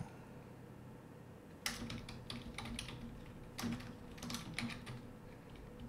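Keyboard typing while writing compiler code in Odin, quick irregular bursts of clicking keys, close and fairly soft, with short pauses between runs and no talk.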